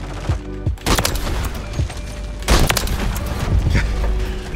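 Rapid gunfire and explosive booms from a Call of Duty match on Halloween, loud and dense with repeated bursts of shots over a constant noisy game backdrop.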